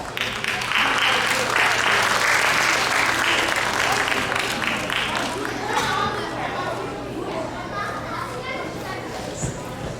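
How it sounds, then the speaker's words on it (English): A stage audience at a Diwali festival bursts into loud applause that gradually thins into scattered claps. Children's voices and crowd chatter carry underneath. "we are delighted to give her a big round of applause"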